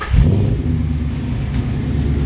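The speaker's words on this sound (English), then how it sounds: "gonna go ahead and start up the car" A 2014 Ford Mustang GT fitted with Ford Racing mufflers cranks and fires with a loud low burst, then settles into a steady, deep rumbling idle heard up close with no talking.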